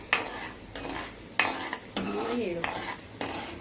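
Urad dal stirred in a pan as it fries toward light brown for shavige uppittu, with a soft sizzle under repeated scraping and clinking of a utensil against the pan, close and fairly quiet.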